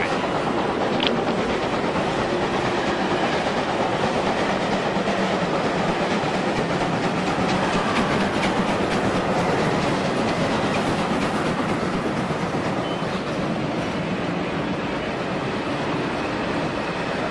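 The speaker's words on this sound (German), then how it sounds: "Bitte Vorsicht an Gleis 2, ein Güterzug fährt durch." An N scale 1:160 model freight train passes through a layout station, giving a dense, steady rolling rumble with faint clicking wheels, continuous and fairly loud for the whole stretch with no talking.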